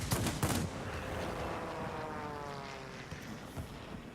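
A BV 210 aircraft fires its cannon in a flight combat video game: a quick cluster of loud bursts opens the clip, then fades into a steady engine drone with faint scattered pops.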